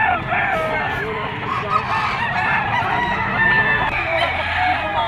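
Roosters and chickens at the Padre Garcia livestock auction market in Batangas, a dense, continuous din of overlapping crowing, clucking and squawks close by, with people talking under the birds.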